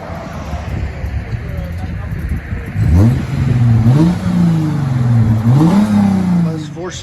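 A Lexus 4.6L V8 with its muffler deleted idles gruffly, then revs in three or four loud, throaty surges close by, with wind buffeting the microphone throughout.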